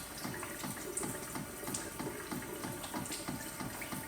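Tap water running steadily into a sink as hands are washed in a food science lab, a constant quiet splashing rush with faint irregular spatter.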